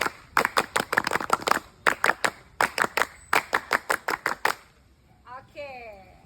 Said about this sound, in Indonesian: coba sebelum itu kita tepuk pramuka dulu